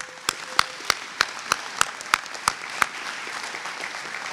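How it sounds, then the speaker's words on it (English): A commencement audience claps for the marching band in sharp, regular unison beats, about ten claps fading into scattered applause. "So a little applause for the band again."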